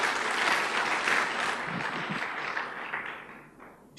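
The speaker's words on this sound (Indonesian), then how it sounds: "Beri tepuk tangan bagi Tuhan kita." A congregation at a church service applauds in a broad, steady wash of clapping that swells early and slowly fades over four seconds.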